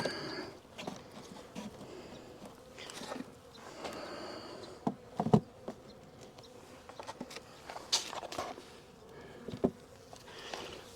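Honey bees in a sparsely populated hive during a late-January inspection give a faint, thin buzz, with scattered close knocks and taps from handling the hive.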